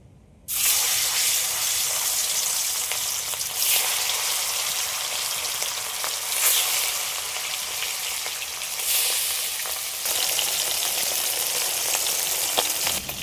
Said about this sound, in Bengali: তেলটা ভালোভাবে গরম হয়ে গেছে এবার মাছগুলো সব ভেজে নেব